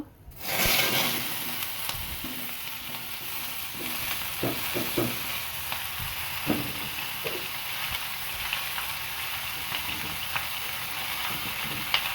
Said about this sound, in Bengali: ফোড়নটা একটু ভাজা ভাজা হয়ে গেলে এখানে কেটে রেখেছি সজনে ডাঁটা, আলু, কলা, লাল আলু আর নিম পাতা দিয়ে দেব।